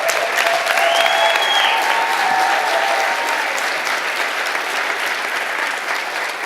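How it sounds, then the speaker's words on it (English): An awards ceremony audience claps for teachers in sustained, dense applause that fills the room, steady from start to finish and easing slightly toward the end. "If all of our teachers could stand one more time and we give them another round of applause."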